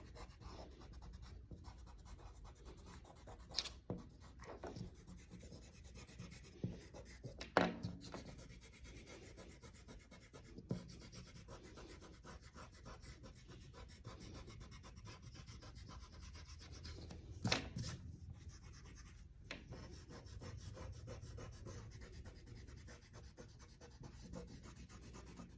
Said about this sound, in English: Then we're going to go back and erase any pencil lines that we have.